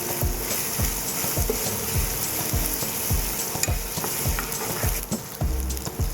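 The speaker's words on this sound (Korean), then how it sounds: "마늘이 갈색으로 변하면 타기 전에 얼른 새우도 넣어주고 볶아줍니다" Garlic fries in oil in a pan for char kuey teow, a steady close sizzle broken by regular scraping stirs, with no voices.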